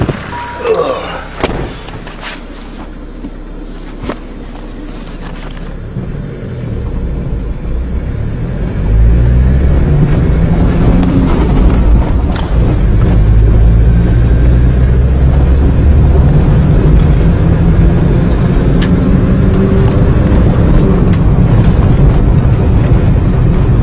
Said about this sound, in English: go start your engine. Just what I did. It works perfect.